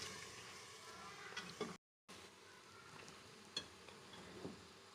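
Beef frying with ginger and garlic for Amritsari beef hareesa, a faint steady sizzle with a few soft clinks of stirring, one brief gap of silence partway through.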